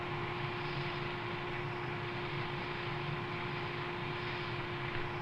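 XV-15 tiltrotor engines raising rotor RPM to helicopter operating speed, a loud, steady drone with a strong constant tone and rotor throb, heard from inside the aircraft with no talk.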